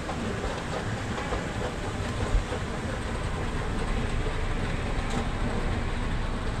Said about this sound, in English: Let's go ahead and ride this one on up.